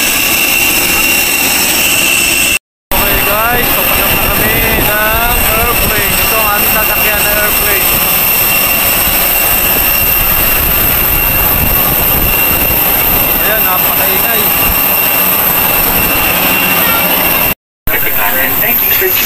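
Jet airliner engines roar in a constant loud drone on a flight from Manila to Boracay, a steady broadband rush with a high whine on top and faint voices beneath.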